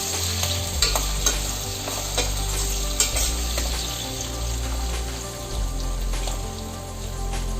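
Sliced potatoes and onions fry on a low flame for a paneer biryani, with a constant close sizzle and repeated scraping stirs of a spatula against the pan throughout, with no talking.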